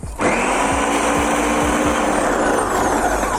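A kitchen blender pulses cherry tomatoes for gazpacho, a sudden loud whirring burst starting abruptly and running steadily for a few seconds, close and alone.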